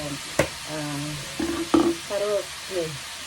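Onions sauté in a hot pan for a Tamil sura (shark) curry, a steady frying sizzle with a few louder stirring scrapes, partly under a nearby voice.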